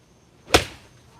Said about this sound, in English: That's the sound of a blade.